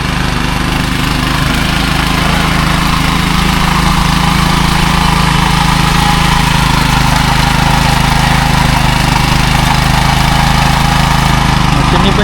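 A machine churning a flooded paddy field into mud for rice planting runs with a loud, steady engine drone, close and unbroken throughout.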